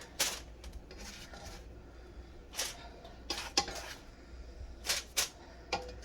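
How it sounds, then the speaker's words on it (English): Toasted burger buns lifted from a pan onto aluminum foil make several scattered crinkles and light metallic scrapes, close and fairly soft, separated by brief quiet gaps. "Get them out of the pan on some aluminum foil and into an oven where they can stay nice and warm."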